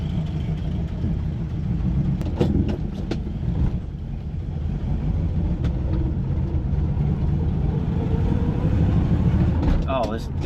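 A 1973 Ford Maverick's engine rumbles rough and uneven from inside the car, a low steady drone with occasional clunks, while a person talks over it.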